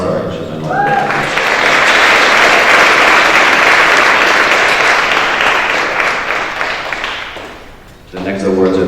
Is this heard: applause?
yes